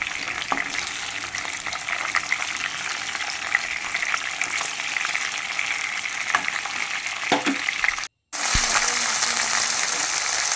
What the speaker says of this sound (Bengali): এর মধ্যে আমি সেই টুকরোগুলো হালকা একটু ভালো করে ভেজে নিয়ে তুলে রাখবো